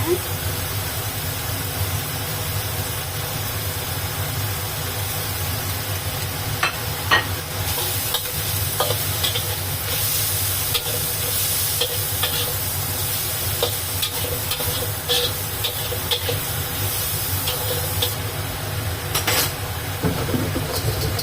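Carrots and cabbage stir-frying in a pan, with a constant loud sizzle and hiss, frequent clicks and scrapes of stirring, and bursts of stronger spattering, close up throughout.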